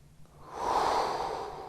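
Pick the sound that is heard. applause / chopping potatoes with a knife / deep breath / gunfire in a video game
deep breath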